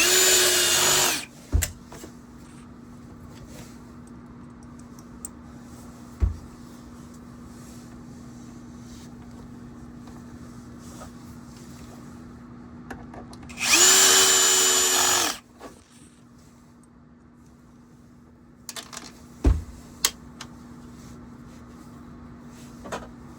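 A power drill on its lowest setting driving Torx screws into a Shark vacuum, heard as a short whirring burst in the middle of a quiet stretch, with a few light clicks and taps of handling before and after.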